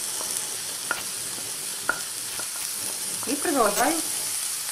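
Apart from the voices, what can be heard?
cucumbers frying in a pan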